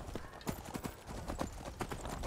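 Horse galloping in the video game Skyrim VR, a fast, steady run of clip-clop hoofbeats close up, with a player shouting excitedly over the hooves.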